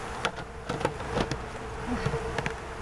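Honey bees buzz in a steady swarm drone after being shaken out of a pop-up camper, with sharp knocks and bumps breaking through the hum several times.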